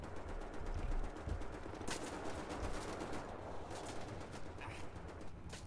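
Gunfire from enemies shooting at the player in the video game Wolfenstein: The New Order, dense rapid bursts with sharp cracks, steady and fairly loud with no talk.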